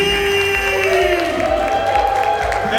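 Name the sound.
crowd cheering and applauding for auctioneer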